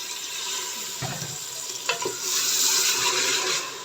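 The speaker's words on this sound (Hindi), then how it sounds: "सब्जी को भोने के बाद मैं इसके अंदर हाफ कप पानी ऐड कर दूंगी" Water poured into a hot pan of frying potatoes and peas sets off a loud hissing sizzle that swells and continues, with a couple of clinks of a utensil.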